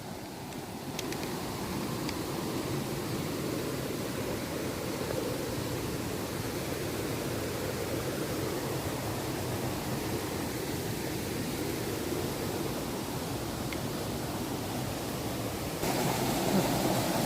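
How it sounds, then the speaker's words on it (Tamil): A forest waterfall in the Veerappan area pours with a steady, dense roar of rushing water, constant and close, with no voices. "தண்ணி அப்படி ஊற்றுது பாருங்க"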